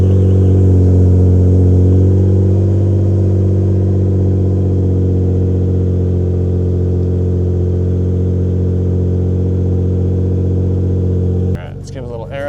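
Nissan GT-R engine running on E85 fuel after a harder start, a loud steady low idle drone held close for many seconds before a brief clatter near the end.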